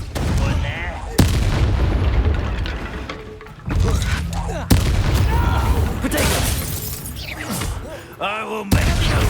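Confringo spell blasts in the video game Hogwarts Legacy, a string of loud booming explosions with sharp onsets and crackling debris in the middle of a fight, with voices shouting between them.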